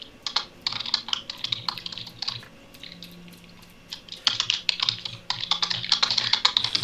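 Rapid, furious typing on a computer keyboard, close and clear, in bursts of quick clicks with a short pause midway before the clatter resumes.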